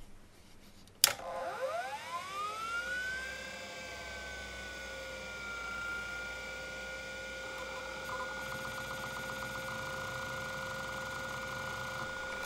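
An old 3.5-inch MFM hard drive spinning up after a sharp click, its whine rising in pitch and settling into a steady high hum with faint mechanical ticking, close and alone.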